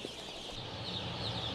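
Chicks just three hours out of the egg cheep in a dense, continuous high chorus, steady and fairly close, with no voices over it.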